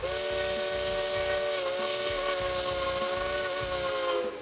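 Steam whistle of the MAV 242.001 steam locomotive, a loud sustained tone blowing steadily over a continuous steam hiss and rhythmic chuffing from the engine, close and unbroken for the whole span.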